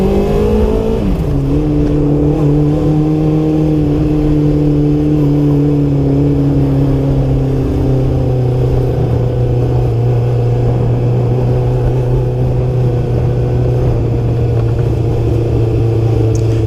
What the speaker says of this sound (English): the motorcycle is working very good, very well